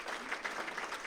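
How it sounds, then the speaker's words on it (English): Brief burst of audience applause at a regional business gathering, steady dense clapping heard from a distance at fairly low level. "Give them a round of applause also."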